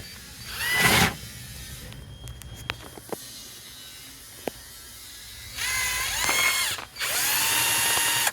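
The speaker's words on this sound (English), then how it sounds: "Drill holes." Power drill boring holes in a mud flap template near a 2012 Mazda 5, with a brief burst of whirring early on, scattered clicks, then two longer sustained drilling runs late, close and fairly loud.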